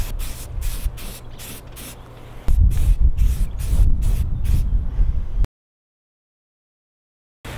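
Aerosol spray paint hissing onto a primered Banshee Paradox hardtail mountain bike frame, in several short bursts and then longer sustained sprays close by, before the sound cuts off to silence.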